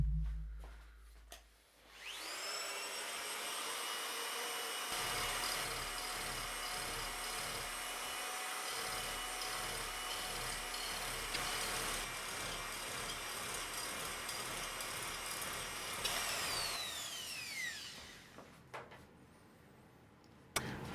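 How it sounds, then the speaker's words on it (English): A hand scraper works across a blued metal machine surface at low pressure, taking chips in a quick repetitive rhythm of scraping strokes that runs steadily for most of the clip, with no talk. "I'm scraping with relatively low pressure, still taking a chip of course"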